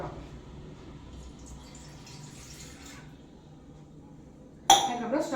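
After a quiet stretch, a cup of water suddenly starts pouring into a pot of coriander seeds nearby, loud and splashy.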